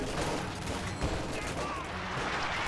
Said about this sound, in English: Pack howitzer firing.